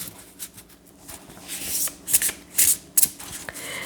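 Large gilded tarot cards being shuffled close up: soft sliding and rubbing at first, then several crisp bursts of riffling cards, with no voices.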